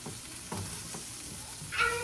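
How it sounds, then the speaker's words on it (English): Asparagus tossed and frying in a pan, a few soft rhythmic stirring scrapes over a low sizzle, ending in a brighter clatter as the spears shift. "I'm gonna go ahead and start tossing the asparagus"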